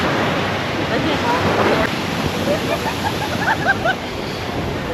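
Rough surf crashes and rolls steadily at Divorce Beach in Cabo San Lucas, a broad wash of churning water with gusty wind noise over the microphone.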